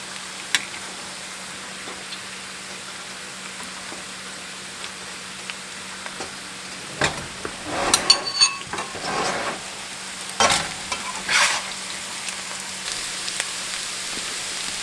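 Potatoes fry in oil with ramps in a foil-covered pan, a steady low sizzle broken by several bursts of louder scraping and stirring near the middle and end.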